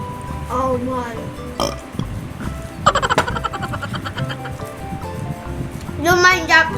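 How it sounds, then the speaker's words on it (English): A man burps loudly while cooking and eating instant pancit canton noodles with cabbage. The burp is a deep, croaking belch among a child's chatter and other talking nearby. "Don't mind that burp"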